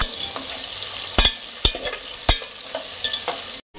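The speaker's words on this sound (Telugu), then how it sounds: "బంగాళాదుంప ఇవి ఫ్రై చేసుకోవాలి కొద్దిగా" Potatoes and carrots frying in a pan, a steady close sizzle broken by a few sharp spatula scrapes and taps, cutting off abruptly at the end.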